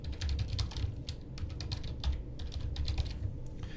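Fingers typing a note on a computer keyboard, a quick irregular run of light clicking keystrokes, close and fairly quiet, with no voices.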